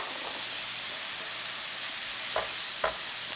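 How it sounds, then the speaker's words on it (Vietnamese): Continuous soft sizzle of shallots, garlic and lemongrass frying in oil, with a couple of brief clinks or stirring knocks near the end. "Cho hành, tỏi rồi đến sả vào phi lên cho thơm"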